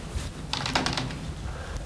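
Soft, quick keystrokes on a keyboard sit under a steady background hiss during software training for a meeting program, a brief cluster of taps in the middle.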